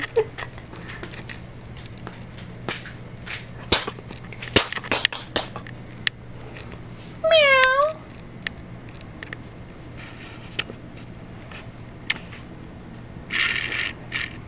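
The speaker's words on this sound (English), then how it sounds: "Meow." A single short meow rises out of quiet household sounds, with scattered soft clicks and rustles around it.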